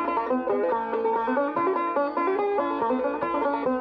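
Banjo dancing: rapid percussive footwork tapping in a busy rhythm, heard together with bright plucked banjo notes, moderately loud and close, with no talking.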